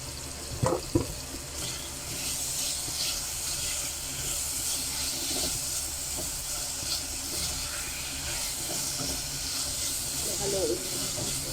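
Food frying in a small amount of cooking oil in a home kitchen, giving a steady sizzling hiss throughout, with a few brief clatters near the start.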